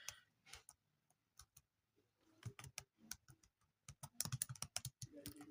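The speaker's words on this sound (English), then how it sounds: "Let me type it." Typing on a computer keyboard, with quiet, close key clicks in irregular bursts and short pauses between them.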